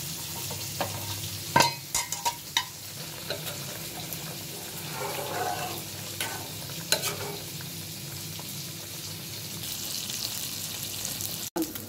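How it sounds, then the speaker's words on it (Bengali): Fish frying in a pan with green chillies, a soft continuous sizzle with clattering stirs and scrapes of a utensil against the pan, a few sharp knocks, close and moderately loud. "এক পাশ আমার মাছগুলো হয়ে গেছে, উল্টিয়ে দিলাম সবগুলো মাছ।"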